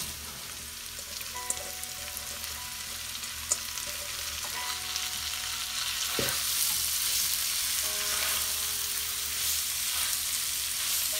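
Zucchini for a Bangladeshi bhaji fries over high heat in a pan, a steady close hiss and sizzle that swells slightly, with a few faint stirring knocks and no talk.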